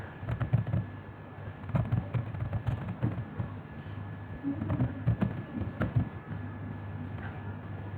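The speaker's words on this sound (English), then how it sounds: "Now type in your address list." Someone types on a computer keyboard. The keys give quick, irregular clicks at close range, steady throughout with small pauses and no talk.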